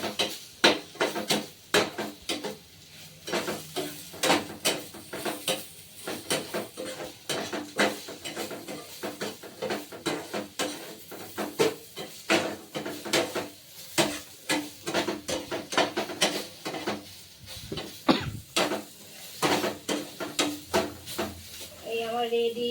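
Spices being stirred into raw mango pickle in a pan, with repeated scraping and clinking of a spoon against the metal and a light sizzle, close and fairly loud, in steady irregular strokes.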